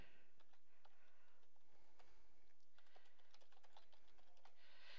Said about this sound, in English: So I'm going to start typing